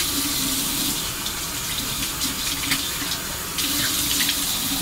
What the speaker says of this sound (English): I'm just gonna wash my face with the CeraVe foaming facial cleanser I brought with me.